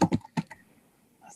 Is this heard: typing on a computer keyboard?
yes